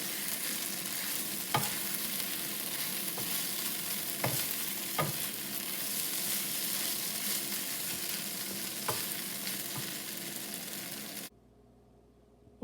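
Rice cooks in a skillet on an electric cooker powered by a solar generator, producing a steady close sizzle with periodic scraping stir clicks, ending abruptly into near silence.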